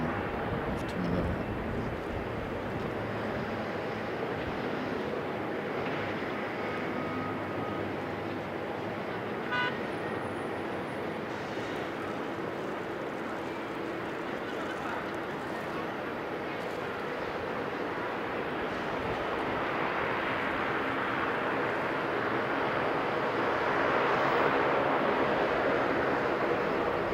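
A Qantas jet departing Sydney for Manila, heard as a steady broad jet roar from a distance that swells gradually toward the end, with faint traffic and a brief horn-like tone mixed in.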